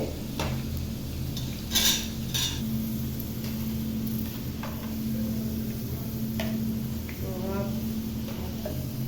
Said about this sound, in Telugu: మాడిపోకుండా నీట్గా కలుపుకుంటూ ఉండాలండి